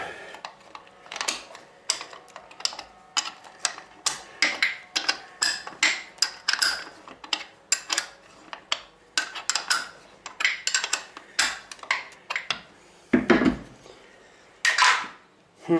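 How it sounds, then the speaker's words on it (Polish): Metallic clicking and ratcheting of a hand wrench tightening exhaust flange bolts in quick irregular bursts, close by, with brief pauses between strokes. "No I teraz mogę kręcić już kluczem"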